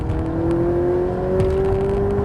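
A car engine revs hard under full throttle, its pitch climbing steadily as it accelerates, loud and close from inside the vehicle.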